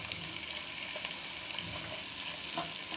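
Garlic and ginger paste fries in a pan for a spinach chicken dish, giving a steady, close hiss with scattered soft stirring scrapes.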